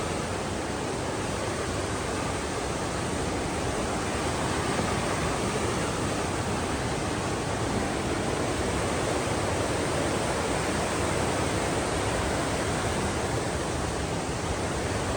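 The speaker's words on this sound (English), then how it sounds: "It's a lot of water, moving fast." Fast-moving river water rushes past near a trail bridge, a steady, loud, unbroken roar of flowing current with no voices.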